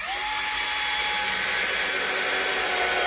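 An electric screwdriver drives a screw into a wooden sash window frame, giving a continuous high-pitched whine that holds steady for about three seconds, close and loud, with no talking.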